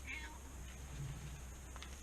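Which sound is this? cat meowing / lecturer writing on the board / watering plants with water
cat meowing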